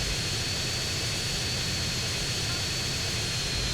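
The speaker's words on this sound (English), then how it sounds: "this is such a loud plane" Loud, steady roar of a plane engine in GTA San Andreas during an air race over Las Venturas, a dense continuous drone filling the whole stretch without letup.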